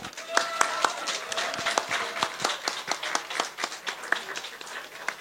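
A crowd claps at a rally awards ceremony, with uneven, sharp individual claps of moderate loudness running for several seconds while a voice speaks over them.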